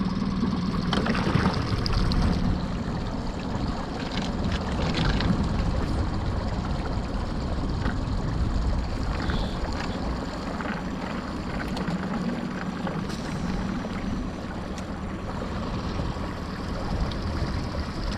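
A boat motor on the Pechora river running in reverse, a low continuous engine drone with water churning and lapping, steady and moderately loud throughout.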